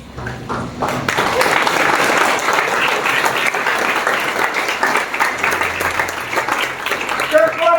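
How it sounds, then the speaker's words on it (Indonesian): A church congregation breaks into loud, sustained applause that fills several seconds, with voices and a speaker audible beneath the clapping. "Berdiri dan tepuk tangan bagi Yesus."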